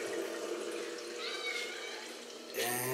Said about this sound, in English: So I kind of fill up the water